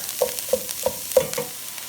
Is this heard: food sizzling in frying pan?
yes